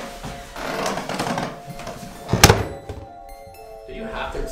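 A door slammed shut in a house during a late-night hide-and-seek game gives one sharp, loud bang midway, ringing briefly, while people talk before and after it.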